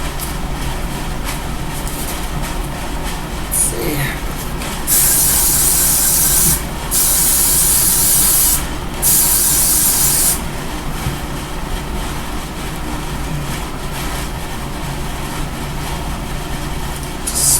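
Hissing bursts of an aerosol spray applied to a wig, two long blasts and a shorter one in between, loud and close over a steady background hum, no talking.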